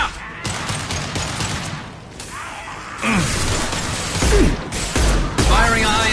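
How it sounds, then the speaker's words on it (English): Gunfire in the sci-fi shooter Mass Effect 2, a few sharp bursts and pops amid layered game effects, with a voice briefly calling out over the action. "Firing a high-impact shot!"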